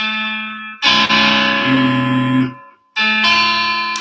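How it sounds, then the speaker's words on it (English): Chords played on an instrument through a distortion effect, loud and buzzing with rich sustained harmonics, in two bursts separated by a short silence. "if I play that with distortion, I do get a low note that's not in the chord"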